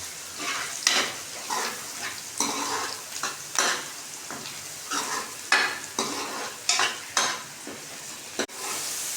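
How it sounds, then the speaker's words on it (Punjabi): A tempering for a ghee ridge gourd curry sizzles in a pan while being stirred, with a loud close hiss broken by regular scraping strokes and utensil clinks against the metal, no speech. "ਬਿਲਕੁਲ ਪਰਫੈਕਟ ਤੜਕਾ ਭੁੱਜ ਗਿਆ"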